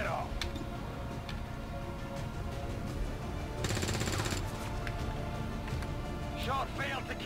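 Gunfire in XCOM 2: War of the Chosen, with sharp scattered shots and a dense crackling burst midway, set against a busy game soundscape with ticking clicks and faint tonal chirps.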